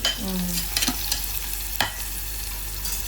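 Pieces of maga fish frying in a pan on a medium flame: a steady moderate sizzle with a couple of brief spatula scrapes and knocks, heard up close with no voices.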